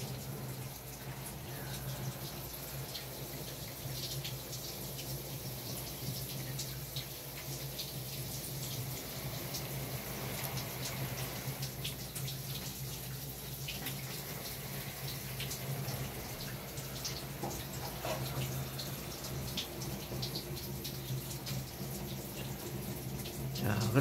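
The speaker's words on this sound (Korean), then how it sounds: "분 밑에서 물이 줄줄 나오도록" Water poured into a Korean spring orchid pot in winter drains out the bottom as a steady, faint trickling wash that keeps on throughout.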